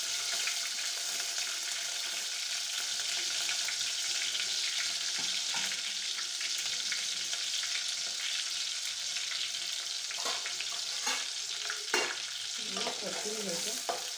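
A small chopped onion fries in hot oil in a pan, giving a steady, loud sizzle with occasional scraping stirs and clinks near the end, while prawn masala is being cooked.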